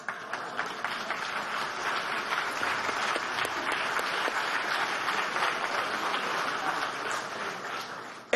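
An audience at a jurists' meeting on sovereignty and peace applauds steadily for several seconds, a sustained dense clapping in a large hall with faint voices underneath.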